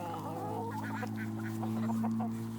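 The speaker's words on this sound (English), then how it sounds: "Got all the ducks and chickens and all the guineas out there in the yard" Ducks, chickens and guinea fowl wander a farm yard, a flock honking, clucking and chattering together at close range over a steady low hum.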